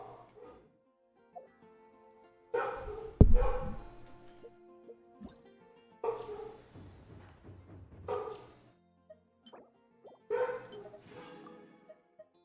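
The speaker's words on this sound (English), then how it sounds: "Sorry if you hear my dog." A pet dog barks in several short bursts, moderately close, separated by quiet gaps over faint, steady background music.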